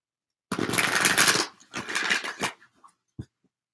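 Tarot cards are shuffled up close in quick riffling bursts, one long rush followed by shorter flurries and a couple of isolated taps, with no talk over them.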